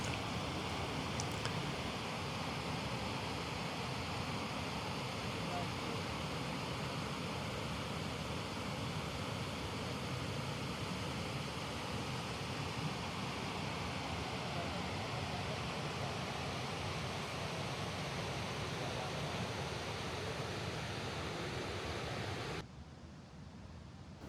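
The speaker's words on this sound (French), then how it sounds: "La cascade." A waterfall at Furong in China gives a steady, loud roar of falling water, broad and unbroken for over twenty seconds before dropping slightly at the end.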